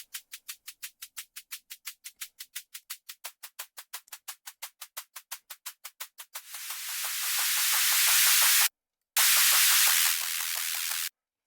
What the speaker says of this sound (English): if you turn it up, see, you get these really like crunchy hats